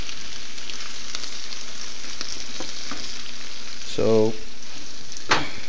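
Sandwich bread frying in a pan and sticking to its surface, giving a steady, close sizzle with occasional scraping and stirring noises and a brief spoken word near the end.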